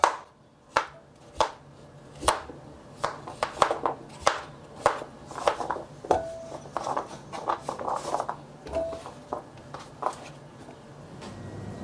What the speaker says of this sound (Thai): ขั้นตอนแรกให้เรานำฟักทองมาหั่นก่อนนะครับ